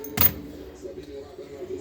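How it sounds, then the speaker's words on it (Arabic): A set of keys for a large Kiriazi chest freezer jangles in one brief, bright metallic shake near the start, followed by quiet room tone. "ادي طقم المفاتيح"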